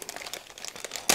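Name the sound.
paper wrapping crinkling as a toy part is unwrapped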